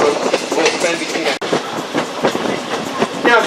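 A Strasburg Railroad train runs along the rails with a loud, close rhythmic clatter and rumble of wheels over track joints, a voice faintly audible beneath it.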